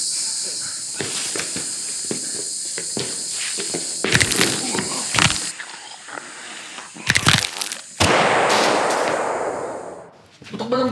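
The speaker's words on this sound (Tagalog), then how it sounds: "Putok ba ng baril yun?" Gunshots crack out in sharp, loud bursts against a steady insect-like hiss outdoors. One heavy report is followed by a longer noisy rumble, with brief talk in between.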